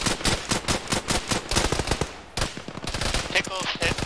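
In Arma, a squad unleashes rapid, close automatic gunfire in tight, even bursts, with a short lull midway before the firing resumes. Voices are heard under the shooting.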